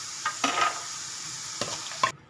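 Gram flour godray frying in ghee over low heat, a steady soft sizzle with a few brief scrapes and clinks of stirring, fairly close and alone with no voices.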